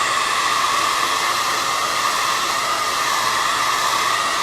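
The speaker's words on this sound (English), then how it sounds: "don't ever leave your blow dryer sitting like in one spot" A hair blow dryer runs steadily close by, drying paint on a bunny painting with a constant loud airy whoosh and no voices.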